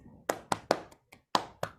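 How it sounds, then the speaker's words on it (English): Several scattered, uneven hand claps from an online class seminar, crisp and close with gaps between them, like a few students clapping for a classmate over a call. "Clap your hands for Ashwant, everyone."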